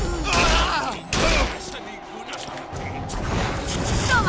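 Bursts of gunfire and impacts ring out in Bioshock Infinite Remastered on PS4, with a voice talking over the rattling shots throughout.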